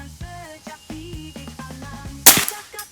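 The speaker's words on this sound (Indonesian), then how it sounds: "Untuk tembakan ke-10 kita coba besi yang paling kiri lagi." A single sharp crack from a Sanca Gear Gen 5 PCP air rifle shot at a steel target, one brief loud burst standing out near the end, following a stretch of clear tonal sound.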